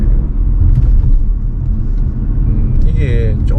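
Low-speed rumble of a Chevrolet XM3 (or XM3 hybrid) driving slowly, a steady low road and chassis drone with faint thumping, continuous and fairly loud inside the cabin.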